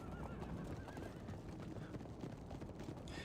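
A cavalry horse unit in a strategy video game whinnies several times over continuous galloping hoofbeats and battle noise, a busy, layered mix heard at moderate distance.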